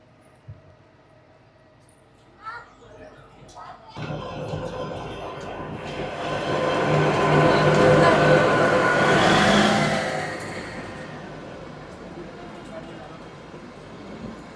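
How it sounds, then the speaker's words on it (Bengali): A Kalka–Shimla toy train passes on the crossing track beside a halted train at a hill platform. A rumble swells from about four seconds, peaks near the middle, then fades. Faint voices and clicks come earlier. "এখানে এই ট্রেনটার ক্রসিংয়ের জন্যে আমাদের ট্রেনটা থেমে গেছে।"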